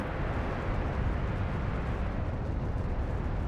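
Drone strike on an artillery tractor and its gun on a battlefield, heard as a loud, sustained roaring blast rumble that holds steady throughout with no talking.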